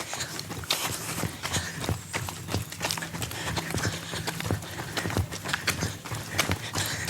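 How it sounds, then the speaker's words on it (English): Horses' hooves clip-clop on a road close by in a quick, irregular rhythm, the sharp knocks coming steadily and overlapping, with faint background noise beneath. "Oh, what was that? Horses."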